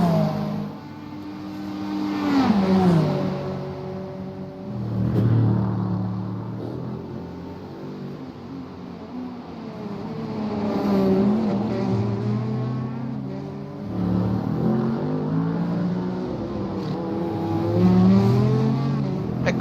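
A Mustang GT3 race car engine roars during a GT3 winter road race at Long Beach, its revs climbing and dropping repeatedly through gear changes as it passes, loud and fairly close.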